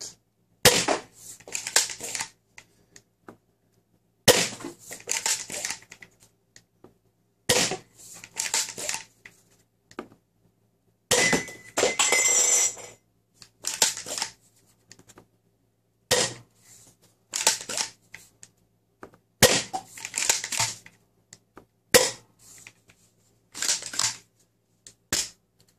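Shots from an XYL KM9 toy blaster modded with a plunger tube and a 14 kg spring ring out in a steady run of about a dozen sharp, loud cracks, each separated by short gaps of near-silence.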